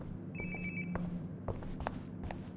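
A phone rings in the game Life is Strange Before the Storm, a warbling electronic ring heard once over low background music, followed by a few thuds and faint movement sounds.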